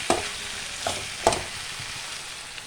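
Vegetables fry in oil with mustard seeds, giving a steady sizzle broken by three sharp scraping clacks of a spoon stirring against the pan, then continuing to hiss quietly.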